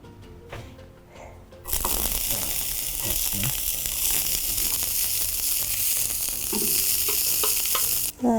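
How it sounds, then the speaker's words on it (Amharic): Onions hit a hot pan and sizzle loudly, a dense steady frying hiss that begins abruptly after a quieter opening with small clatters, then continues close and even to the end. "መጥበሻችንን እናገለን፣ ሽንኩርታችንን እንጠብሳለን።"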